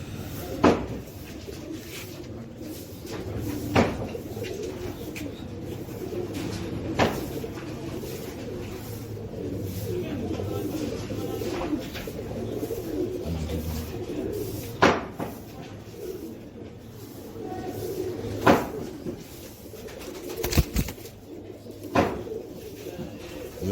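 Royal Teddy pigeons coo softly and repeatedly in a quiet indoor space, low rolling calls under sharp intermittent clicks and knocks, with someone speaking now and then.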